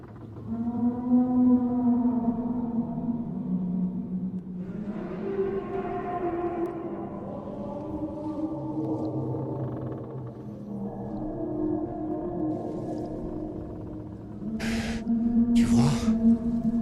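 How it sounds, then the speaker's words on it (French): Eerie, whale-like moaning cry of a leviathan drifting through fog as a horror sound effect, long wavering tonal calls rising and falling over about sixteen seconds, ending with two brief sharp bursts. "Un cri anormal qui vous est ramené à travers le brouillard."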